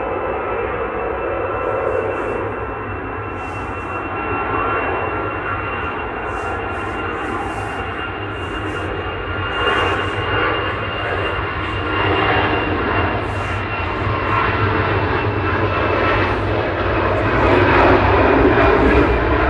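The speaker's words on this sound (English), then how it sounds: "I can hear the BA 777 going over Stockport" A British Airways Boeing 777 passes high overhead under overcast skies, its jet engines making a steady, broad roar that slowly builds in loudness over about twenty seconds.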